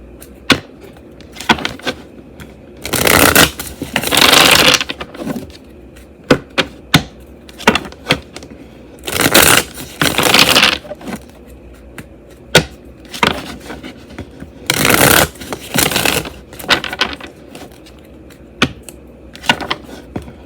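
Tarot cards being shuffled, with close bursts of riffling and snapping card noise between sharp taps and pauses, repeated several times with no voices.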